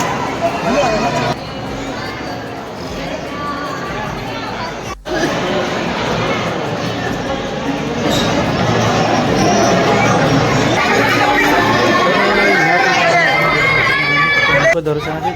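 Dense crowd of pilgrims in Ujjain during the Maha Kumbh Mela 2025, a loud continuous hubbub of many voices and chatter close around, with a person talking over it.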